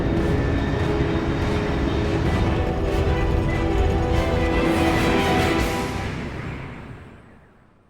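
A fast aircraft roars past at over Mach 3 in Metal Gear Solid Delta: Snake Eater, a loud broadband rumble holding steady for several seconds before fading away into the distance.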